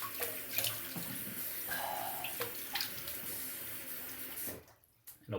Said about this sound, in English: You rinse with some fresh cold water.